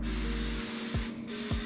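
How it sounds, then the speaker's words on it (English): Chain cleaner hisses out of a spray can onto a bike drivetrain in an apartment, one continuous close spray with a brief break near the end, loud and alone. "we put the chain cleaner on everything that is the"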